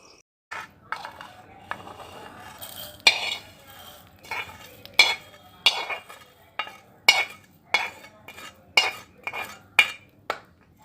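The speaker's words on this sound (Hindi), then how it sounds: "हमने यहाँ पर ज़ीरो फ्लेम पर सिर्फ चंद सेकंड के लिए रोस्ट करना है मसालों को।" Spices dry-roasted on a very low flame and stirred in a pan, a utensil scraping and clinking against the pan in a steady rhythm of sharp strokes about once a second, close and clear, no talk.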